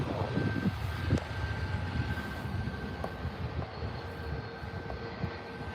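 A Boeing 737 taking off at Birmingham Airport, a distant, steady engine roar with a thin whine and a few clicks, faint and continuous with no talk.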